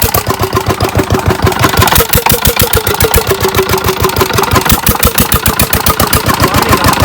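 A Peter diesel engine runs steadily after a hard start in cold weather, with loud, close, rapid regular thumping pulses at an even idle-like rhythm and no voices over it.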